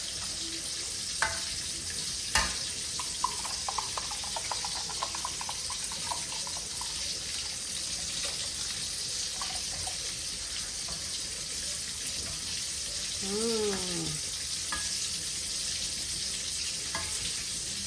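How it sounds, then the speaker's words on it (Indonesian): Coconut milk poured into a hot pan and stirred, giving a steady close sizzle and bubbling with a few sharp utensil knocks and brief scraping stirs. "Nah ini kita masukkan santannya ya."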